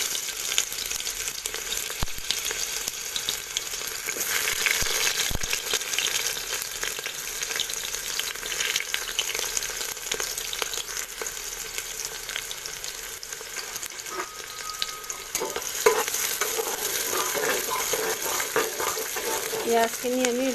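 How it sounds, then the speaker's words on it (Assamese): Raw onions fry in mustard oil inside a pressure cooker for a mutton curry, giving a continuous close hiss and sizzle with occasional clinks and scrapes of stirring. "পিঁয়াজখিনি আমি ৰঙা হোৱালৈ ভাজি থাকিব লাগিব।"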